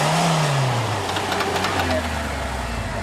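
A stock Jeep Wrangler JK on an off-road trail revs hard as the clutch is let out, its engine note sliding downward over a few seconds while people talk nearby.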